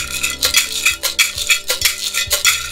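Homemade shaker container filled with metal ball bearings, shaken in a quick steady rhythm; a loud, harsh, bright metallic rattle swishes back and forth in close, regular bursts with no talking.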